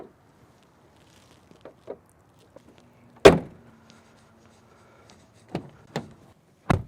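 A car door thumps shut as someone climbs into a 2023 Ford Maverick XLT Tremor AWD, one solid close slam amid quiet interior rustles, followed by a few lighter clicks and knocks.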